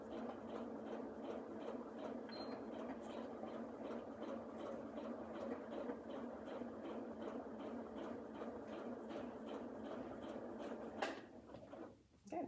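A sewing machine runs steadily through a pillowcase seam, a continuous close mechanical whir with fine rapid stitching pulses for most of the stretch, then stops near the end with a brief clunk and faint handling noise.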